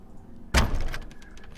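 A locked door being tried in a top-down action video game, one abrupt rattling clunk of the door against its latch followed by a short fading rattle, fairly close, no speech.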